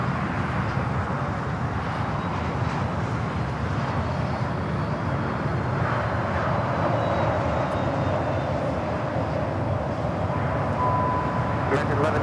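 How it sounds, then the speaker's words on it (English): American Airlines Dreamliner rolling on runway 25 right at LAX, a continuous even jet rumble and hiss heard at a distance, holding steady throughout. "we have the American Dreamliner now rolling on 25 right"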